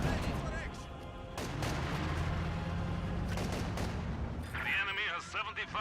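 Artillery shells from a high explosive barrage in the World War II strategy game Company of Heroes 2 land in repeated heavy blasts over rumbling battle noise, and a voice speaks near the end.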